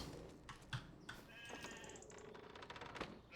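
Faint, quiet sheep bleats in the video game Farming Simulator 25 repeated a few times over soft background clatter, no talking.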